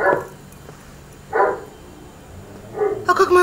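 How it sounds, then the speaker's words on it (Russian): A dog barks in short loud bursts, three close barks spaced apart with a hint of a yelp at the end, with quiet room tone between. "Это бесконечно так будет продолжаться, этот вой и лай?"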